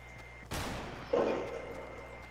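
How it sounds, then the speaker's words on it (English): Gunfire in Fortnite: a sharp crack followed a moment later by a second heavier blast with a lingering rumble, moderately loud over a low background hum. "Who the fuck is shooting?"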